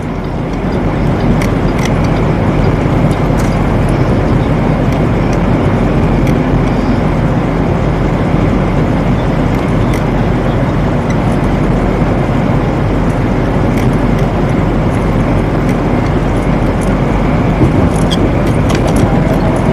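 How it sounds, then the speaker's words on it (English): A semi truck engine runs in a steady, loud drone for the whole stretch, heard from inside the cab, with no talking over it. "They don't hear the truck running."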